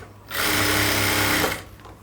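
A sewing machine stitches a fabric side border in one close, steady burst lasting just over a second, with quiet on either side.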